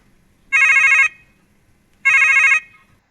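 A telephone rings twice, each bright electronic trill lasting about half a second, clear and close against near silence, with no talking.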